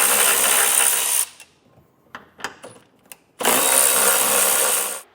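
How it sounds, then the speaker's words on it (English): A power tool with a 12mm socket spins out the exhaust isolator hanger bolts under a 2024 Toyota Camry, two loud sustained whirring runs separated by a quiet gap with a few clicks and clanks between them. "this is just going to be a 12mm socket to get these taken down"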